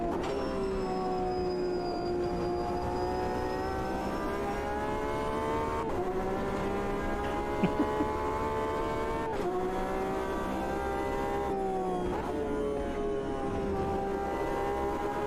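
A race car engine in Automobilista 2 holds a steady, buzzy harmonic drone for a long stretch, with several sudden pitch drops as gears change, and stays loud and close without any talk.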